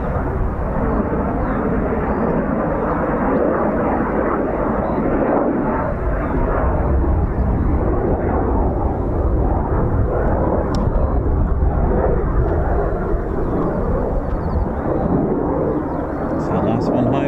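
A Eurofighter Typhoon FGR4 jet landing at RAF Coningsby fills the air with a loud, sustained rumbling roar, dense low-end thunder that stays heavy throughout, with talk running underneath.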